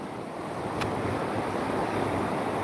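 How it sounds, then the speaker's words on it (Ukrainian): Water running in a small Carpathian mountain stream, partly iced over with flow trickling along the top of the ice, a steady broadband rush with a gusty, windy texture and no speech. "Де зараз я ходжу, сюди вода тече."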